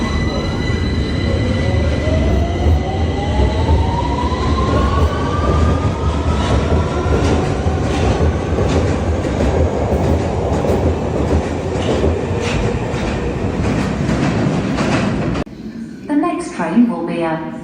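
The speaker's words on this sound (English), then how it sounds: "Please stand behind the yellow line as the train approaches." A London Underground Victoria Line train pulls into a platform, its motors whining upward over a steady rumble and wheel clatter before it settles, followed by a voice announcement.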